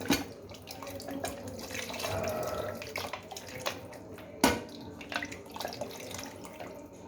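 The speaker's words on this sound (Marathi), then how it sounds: "मिक्सरचं मसाल्याचं भांडं धुवून याच्यामध्ये आपल्याला पाणी टाकायचं" Tap water runs into and rinses a mixer grinder's masala jar in a home kitchen while cooking a paneer curry, a steady splashing stream with a sharp knock of the jar partway through.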